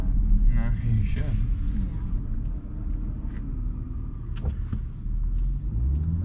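A 2021 Land Rover Discovery cruises on the road, its engine and tyre rumble a steady low drone beneath conversation from people inside the cabin.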